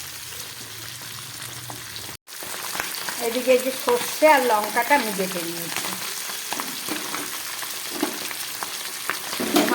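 Pabda fish frying in a pan with a steady sizzle and crackle through the whole stretch, while a person talks over it.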